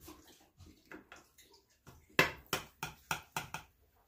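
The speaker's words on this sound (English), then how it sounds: "it's just Jean's dog getting a drink of water." A dog laps water in a kitchen, a run of quick wet slurps that grows louder and sharper toward the end, close by with no talking.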